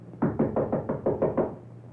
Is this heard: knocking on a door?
yes